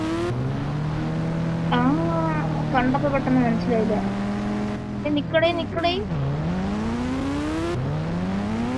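Kawasaki H2 motorbike in a GTA-style video game, its engine revving and shifting pitch up and down through repeated rising and falling sweeps, close and continuous, with someone talking over it.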